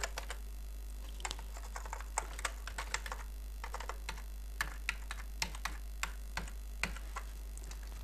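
An ID card number is typed on a computer keyboard: quiet, close, irregular clicking keystrokes come in quick clusters and single taps over a low steady hum, with no talking.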